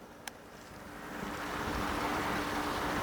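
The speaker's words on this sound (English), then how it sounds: "the wind is blowing real good" Outdoors in a garden, wind blows across the microphone as a steady, rising wash of broadband rushing noise, with a faint hum beneath.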